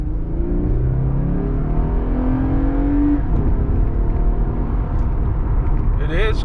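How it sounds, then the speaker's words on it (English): A 2019 Lexus IS 300 engine drones steadily from inside the cabin, pitch climbing as it accelerates through the gears, with road rumble underneath. "It is a very punchy engine"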